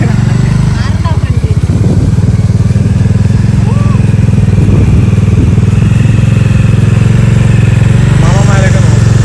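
A motorcycle engine runs steadily and loudly up close throughout, with a low rumbling drone and some clatter, while a voice talks over it.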